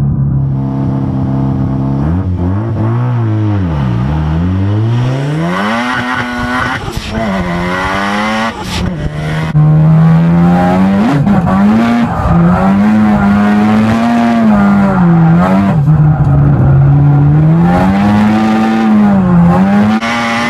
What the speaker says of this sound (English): smoking his tires, warming them up